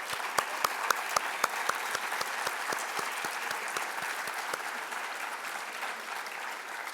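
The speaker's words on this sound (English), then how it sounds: "I ask you to provide a big round of applause for them and what they have accomplished" Audience applause at a closing ceremony for graduating teacher scholars, a room full of clapping with a few sharp, close individual claps standing out in the first seconds before settling into an even, moderate wash.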